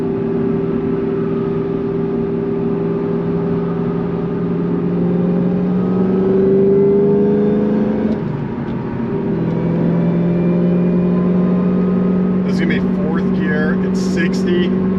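Inside an 800HP Cobra cruising in 3rd gear at 40 mph, a steady low engine drone and road rumble fill the cabin, with a slight pitch shift midway and brief faint rattles toward the end.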